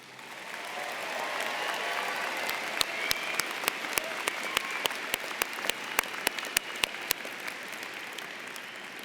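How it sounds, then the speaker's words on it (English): A commencement crowd at a university winter graduation ceremony applauds the graduating class, a sustained wash of clapping with a few sharp nearby claps standing out, no speech over it. "offer a big round of applause for the class of"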